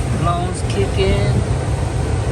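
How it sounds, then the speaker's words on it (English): A furnace blower motor runs smoothly with a steady, even whoosh of airflow and low hum, continuous and close, under someone talking. "Smooth sound with the motor. Very smooth. Quiet."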